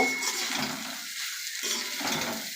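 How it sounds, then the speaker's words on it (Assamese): Fish roe stirred in a frying pan, with a spoon scraping and clattering against the metal in repeated strokes over a soft sizzle, close and fairly loud. "হিলাই থাকিব, নহ'লে তলত জ্বলি যাব।"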